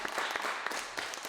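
An audience at an open mic night applauds a performer, a short burst of many hands clapping, fairly faint and evenly sustained.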